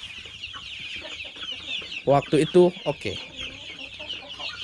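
Free-range village chickens on an Indonesian kampung chicken farm cluck in a burst of several loud calls midway, over a steady background of farm birds, with brief talk at the start.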